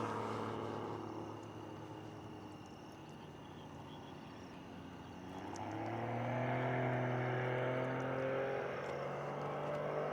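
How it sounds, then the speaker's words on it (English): Unlimited-category aerobatic aircraft flying a competition routine at a US nationals contest, a distant engine drone that fades and then swells louder with a rising, shifting pitch as the plane maneuvers, with no talking. "Aircraft now on a 45 upline inverted"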